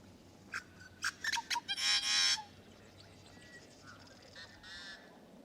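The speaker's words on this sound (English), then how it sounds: "it's a male yellow-headed blackbird singing to the smaller and more cryptically marked female" A male yellow-headed blackbird gives a series of clicks followed by a loud, raspy, gurgling buzz, then fainter buzzy notes in a quiet outdoor setting.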